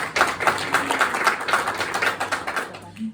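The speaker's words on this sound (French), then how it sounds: "Par applaudissement." A small audience at the Kings Of Comedy Club in Brussels claps in a steady, close patter for about three seconds, thinning out and fading near the end.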